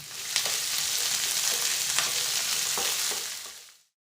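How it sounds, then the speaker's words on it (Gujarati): Four medium-chopped capsicums sauté in a pan with mustard seeds and curry leaves, giving a loud, steady sizzle with occasional stirring clicks before it fades out abruptly. "હવે કેપ્સિકમને એક મિનિટ સાંતળી લઈએ"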